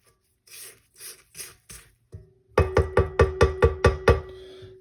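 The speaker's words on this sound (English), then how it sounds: "Scrape it down." Spatula scraping down banana bread batter in a mixing bowl: a few soft strokes, then a quick run of eight sharp rhythmic scrapes over a steady hum, close and fairly loud.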